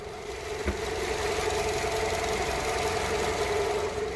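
A Nissan Altima 2.5 gasoline engine idles close up with the hood open, a smooth, even hum and quiet mechanical ticking, plus one brief knock near the start.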